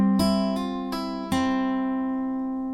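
Close acoustic guitar lick: four crisp plucked attacks in quick succession, then the open chord rings and fades with no other sound.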